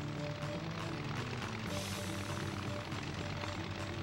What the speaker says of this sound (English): So ready for the best airplane ever?